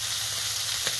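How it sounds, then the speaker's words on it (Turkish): Fish sizzles steadily as it fries in a pan, a close, continuous crackling hiss with no pauses. "Bu şekilde balığımızı pişirelim."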